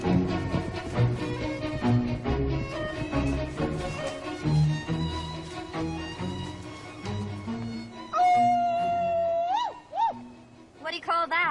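A woman imitates a howl at the moon with her voice, a rising and falling wail near the end that follows a stretch of speech and music.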